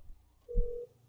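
A single short phone dialing tone sounds in the game GTA V, a clear steady beep lasting about a third of a second over a quiet background.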